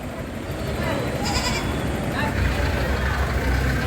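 Sheep and goats bleat at a busy livestock trading market in the Philippines, their calls rising briefly over a steady wash of crowd voices and idling vehicle noise.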